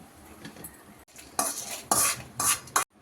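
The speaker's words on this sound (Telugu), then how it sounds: "ఇలా ఫ్రై చేసుకోవాలండి లైట్గా." Whole spices for homemade garam masala being lightly dry roasted in a pan, a spoon scraping and stirring in repeated bursts with dry rattling and clinking between short pauses, close and fairly loud.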